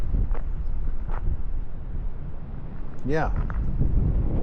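Strong outdoor wind buffets a camera microphone on an overcast day, producing a continuous low rumbling roar, while someone talks briefly over it.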